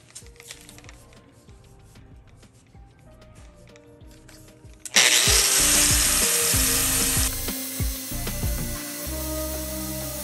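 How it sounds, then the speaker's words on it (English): An angle grinder smooths the bumpy surface of a metal scuba tank, starting abruptly midway with a loud, steady, harsh whine and grinding rasp close by after a quieter stretch of faint workshop noise. "it's nothing that a grinder won't fix. So I'm gonna grind all the bumpiness off of it"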